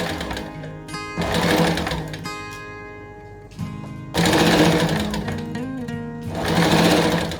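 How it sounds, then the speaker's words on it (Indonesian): A sewing machine runs in loud bursts while stitching a dress along a marked seam line, with whirring runs separated by short pauses and a brief lull in the middle. "Lalu kita jahit mengikuti jalur radernya atau jalur pentul ya. Yuk kita jahit."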